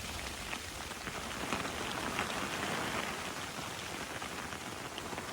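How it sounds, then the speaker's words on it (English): Rain pattering on a tent during winter mountain camping in freezing temperatures, a steady dense hiss of drops drumming close on the fabric, even and continuous throughout with no voices. "loves the sound of rain on the tent, or hail, or whatever"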